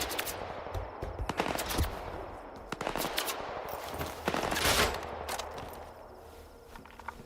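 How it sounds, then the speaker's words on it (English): Enemy gunfire crackles in the video game S.T.A.L.K.E.R. 2, sharp shots and short bursts repeating irregularly at moderate distance over a constant rustling background. "They're about to shoot at me. Will they hit me? They probably will."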